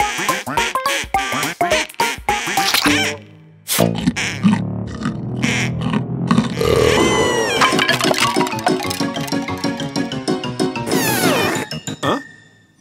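A cartoon vampire duck quacks loudly and repeatedly in an animated children's show, its squawking calls layered over busy music and sound effects.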